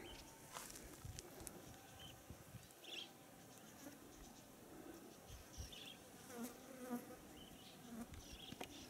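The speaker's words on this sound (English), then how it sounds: "You hear the beat, the flies buzzing in my ears." Flies buzz close by at a creek-side bush camp in outback Queensland, faint intermittent whining passes over quiet outdoor ambience, with a few distant bird calls.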